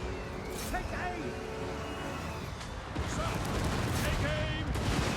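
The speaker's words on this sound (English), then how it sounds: "So we can drop some Eisen bombs here." Dense rumbling explosions and crackling impacts from bombs dropped on a Total War Warhammer 2 battlefield roll on steadily, swelling louder near the end, with voices and battle clamour mixed through.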